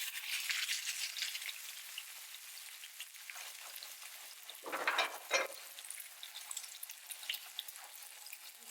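Salmon sizzles and fries in a pan, a faint, steady crackle with a brief louder burst of sizzling partway through and no talking.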